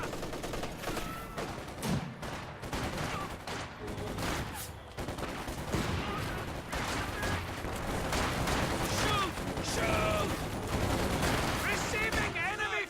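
Dense rattling gunfire and bursts of machine-gun fire from a real-time strategy game battle, with an infantry gun bombarding a position, loud and continuous with overlapping shots and booms throughout, and voices faintly mixed in.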